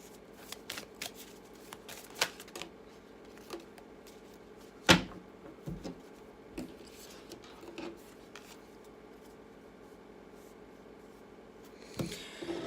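Tarot cards being shuffled and drawn in a reading, giving soft papery riffles and slaps scattered across the stretch, with one sharper snap near the middle and a brief rustle at the end; no one speaks.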